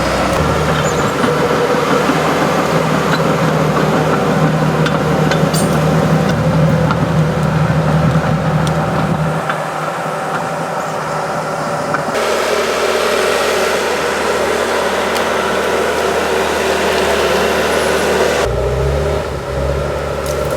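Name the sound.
bulldozer clearing brush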